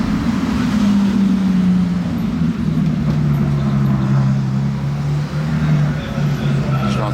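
A loud, deep Pontiac engine rumble on a Miami street holds steady and slowly lowers in pitch, with heavy road noise throughout and no speech.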